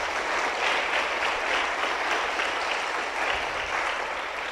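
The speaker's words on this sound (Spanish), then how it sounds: "Dele palmas a Jesús." A church congregation claps steadily and loudly during a Spanish-language worship service, a dense, even wash of many hands that holds unbroken throughout, with no voices standing out.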